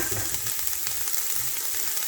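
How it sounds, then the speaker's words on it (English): Garlic, red onions and white onions frying in a pan, a bright, continuous sizzle with light crackling close by and no voices. "I've got the garlic and the onions in there, just frying away"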